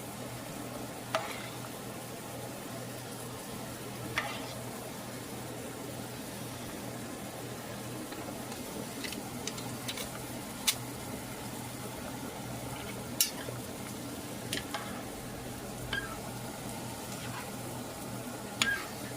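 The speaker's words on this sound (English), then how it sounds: "Stir them, separate them while their water's hot and boiling so that they don't stick together." A pot of hot, boiling water with pasta being stirred gives a steady close bubbling hiss, broken by a few faint clinks and taps spread through the stretch. No voices.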